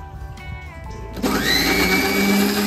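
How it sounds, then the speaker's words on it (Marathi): A kitchen blender grinds garlic and ginger. A low background hum is followed by the motor suddenly kicking in loud and steady for the rest, a close, whirring grind with no voices. "आणि याला व्यवस्थित आपण असं ग्राइंड करून घेऊया."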